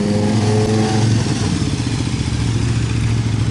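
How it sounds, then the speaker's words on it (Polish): Motorcycles riding past on a street beside a spa park in Świnoujście, engines droning loudly with a clattering mid-range hum that shifts pitch as they go by, no talking. "na motocyklach jacyś tu jadą"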